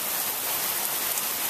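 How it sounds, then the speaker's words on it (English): Steady late-afternoon rain in Tennessee, a dense even hiss of drops on surfaces, close and continuous with no voices. "and now it's raining pretty good."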